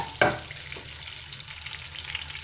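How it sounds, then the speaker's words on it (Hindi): Cumin and chili tempering fries in hot oil for a Sindhi mixed dal: a sharp crackling burst as the spices hit, then a steady, faint sizzle alone. "बघार बन रहा है"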